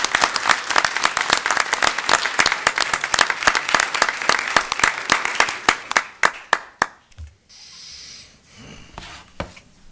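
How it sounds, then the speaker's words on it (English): Audience members at a village board of trustees meeting clap for a group of women, starting as brisk dense applause, thinning into scattered individual claps and dying out into quiet room noise. "Let's give these ladies a wonderful round of applause."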